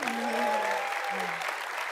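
Applause for Stephanie at the .conf24 keynote, a broad wash of clapping heard under a sustained tonal musical hum.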